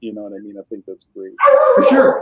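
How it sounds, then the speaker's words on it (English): A dog barks and yelps in a loud, busy burst lasting under a second near the end, following a stretch of a man's conversational speech. "That's my dog."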